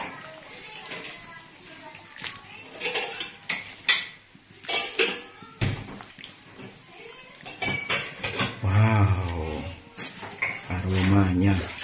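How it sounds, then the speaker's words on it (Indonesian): Coconut milk gulai stirred in a pot, with light clinks and scrapes of a utensil against metal heard under almost constant talking. "Harus diaduk terus karena memang biar nggak santannya menggumpal-gumpal atau pecah santan"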